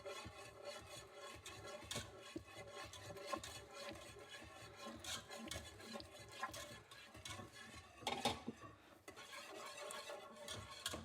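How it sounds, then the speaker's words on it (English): Milk sauce for a fish pie being stirred in a pan, a quiet continuous swishing and scraping with occasional soft knocks of the spoon, close and faint, with no talk. "Give it a good stir."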